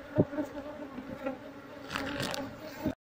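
Honeybees buzz continuously close by, a droning hum rising and falling, with occasional louder passes and small knocks, as a colony is moved out of a hollow tree.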